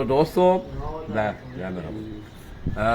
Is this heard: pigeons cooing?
yes